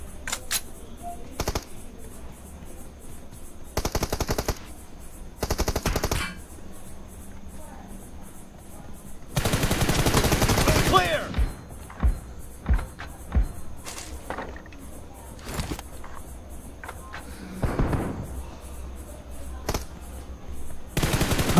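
Gunfire from the mobile battle-royale game PUBG Mobile during a one-on-one team deathmatch, with several loud bursts of automatic fire and scattered single shots between quieter game noise.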